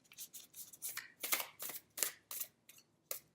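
Tarot cards being shuffled by hand, a run of crisp, rapid riffling bursts in an uneven rhythm, close and soft with no talking over it.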